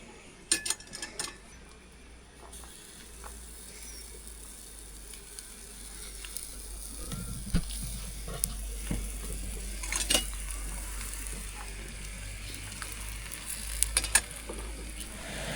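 Oil sizzling and frying in a pan over a camp stove, with occasional clinks of utensils and cookware; quiet, steady sizzle that swells after a few seconds.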